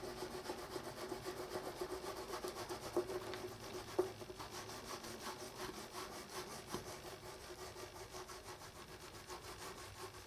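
Piece of hardened filler gently rubbed against a surface, a continuous soft, rhythmic scratchy rasping with quick back-and-forth strokes, close and quiet, with an occasional small knock.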